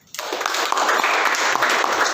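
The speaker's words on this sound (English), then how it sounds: "a big round of applause to you for being with us." An audience at a tech entrepreneurship talk breaks into a sustained round of applause. The dense clapping starts abruptly and holds steady and loud for about two seconds.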